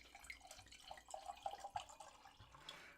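Dry Riesling white wine, vintage 2024, pouring into a glass, giving a soft, quiet splashing trickle with small bright drips, close and faint throughout.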